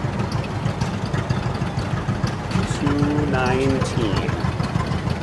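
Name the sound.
1948 John Deere AO orchard tractor engine running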